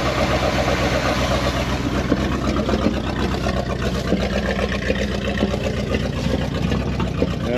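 An old 1979 Chevrolet C20 truck's 454 engine runs continuously at a steady idle, a loud low rumble with rhythmic knocking, close by and uninterrupted.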